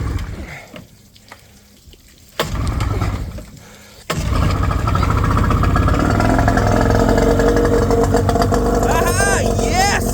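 A 20hp Yamaha outboard motor in neutral on a boat cranks and fires, with two short bursts before it catches and settles into a loud, steady running roar close by. Someone talks over the start.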